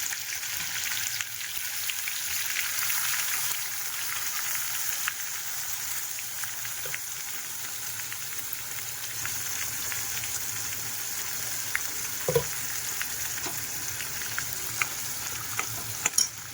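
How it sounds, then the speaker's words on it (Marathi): Masala paste sizzling and frying in hot oil while a dry goat-lung (phopsa) mutton dish is cooked, a steady crackling hiss with occasional spoon-stirring clicks, close and continuous with no talking. "चांगलं तेल तापलेलं आहे. आता आपण वाटण टाकून घेऊया."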